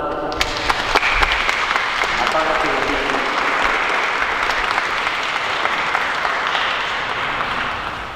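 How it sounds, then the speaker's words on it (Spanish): Wedding guests applauding inside a church during a ceremony, a sustained burst of clapping that builds quickly and holds for several seconds before easing slightly. "Le damos un aplauso."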